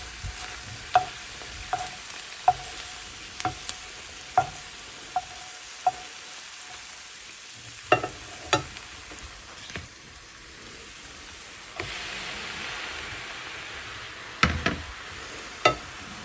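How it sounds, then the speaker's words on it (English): Halusky noodles browning with vegetables in a pan, a low steady sizzle with scattered sharp clicks and scrapes as the mixture is stirred at intervals. "we're going to mix everything together and let the noodles brown a little bit in with the vegetables"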